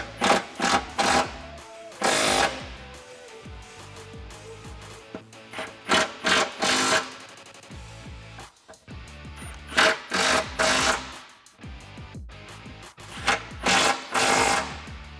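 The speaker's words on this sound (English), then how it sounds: "we're going to re-tighten these 4 13mm bolts in here" Hand-tightening 13mm bolts on a Jeep Wrangler TJ during a Rough Country 3.25-inch lift kit install: close, loud bursts of ratcheting in short clustered clicks, separated by pauses and repositioning.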